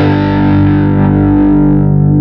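Heavily distorted Fender Jaguar fitted with a one-string bass pickup, a thick sustained chord with a deep bass undertone ringing loud and steady throughout, with no talking.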